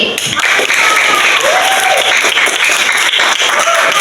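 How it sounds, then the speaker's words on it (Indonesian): A junior high school class applauds together in a classroom, loud dense clapping filling the whole stretch with a few faint voices and whistles mixed in. "Tepuk tangan untuk kelas 7I."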